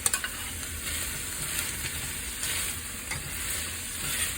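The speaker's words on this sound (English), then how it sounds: "And I stir them in the pan." Chopped fresh green beans, onion, garlic and carrots sizzle steadily as they are stirred in a frying pan, a continuous close crackle with faint scraping and no voices.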